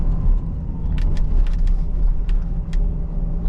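Steady low road rumble from a 1976 Mercedes-Benz 450SL on small wheels with tall sidewalls, riding over rough pavement, with a few faint rattles and clicks above the continuous drone.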